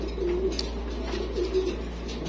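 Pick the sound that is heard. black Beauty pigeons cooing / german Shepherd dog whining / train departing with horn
black Beauty pigeons cooing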